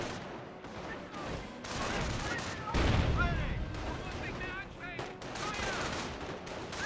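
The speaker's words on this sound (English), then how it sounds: "Taking rifle fire!" Rifle fire in a Company of Heroes battle: scattered shots and bursts with heavier booms mixed in, moderately distant and continuous, under a commentator's talk.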